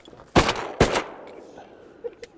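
Two sharp shotgun blasts of nitro steel shot ring out close together at ducks on a Louisiana hunt, each with a decaying tail, followed by faint rustling and a small click.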